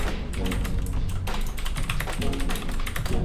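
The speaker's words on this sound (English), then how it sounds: "why don't we fire up some typing tests just to see how this actually sounds when you're typing" Fast, steady typing on a mechanical keyboard with clicky blue switches from a Vertux gaming peripheral set, a dense run of sharp clacks close to the mic with no talking.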